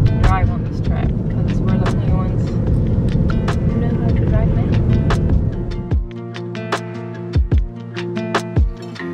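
A car with a manual transmission drives along a road in Italy, its steady engine and road rumble running continuously before dropping to a quieter idle-like hum with a few bumps and clicks near the end.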